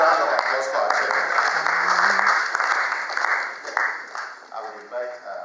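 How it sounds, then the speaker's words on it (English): Audience applause for the chairman at an Adisadel College old boys' lecture, a steady wash of many hands clapping throughout, fairly close and sustained, with some voices mixed in. "Round of applause for our chairman."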